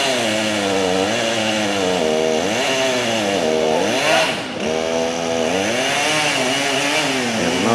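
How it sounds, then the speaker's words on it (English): A chainsaw cuts through oak in woodland, its engine a steady loud whine that rises and falls in pitch as the chain bites through the log, running continuously close by. "Chainsaw's got to be really sharp. He's cutting right through that."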